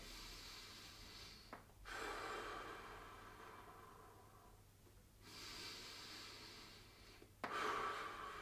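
Slow deep breaths during a seated gentle stretching exercise with a stick, faint and close, with two long inhale-exhale cycles separated by quiet pauses.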